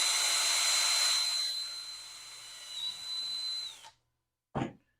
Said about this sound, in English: We're going to grab the drill. We're going to put it in a corner and we're going to drill a hole.